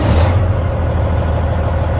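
A 14 liter Detroit diesel truck engine runs loud and close with a deep, steady rumble and a brief burst of noise at the start.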